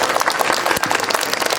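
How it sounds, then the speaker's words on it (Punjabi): A satsang congregation claps loudly in a dense, continuous burst of applause that fills the short moment. "ਤਾਲੀ ਮਾਰੋ ਜਰਾ ਜ਼ੋਰਦਾਰ ਮਾਲਕਾਂ ਦੇ ਨਾਮ"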